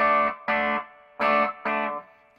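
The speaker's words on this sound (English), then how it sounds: "if we give it a little bit of the distortion. So without boost and with boost" Four distorted electric guitar chords through a TWA Triskelion pedal with boost ring out in a steady, evenly spaced pattern, each sustained briefly, with a buzzy, saturated tone and no talking.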